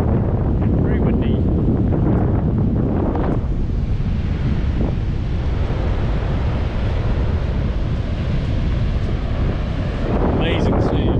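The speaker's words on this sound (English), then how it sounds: "Very windy." Strong, steady wind roars across the microphone with surf rumbling underneath on a white-sand beach at Cape Reinga, a broad constant noise that never lets up, with faint voices briefly at the start and end.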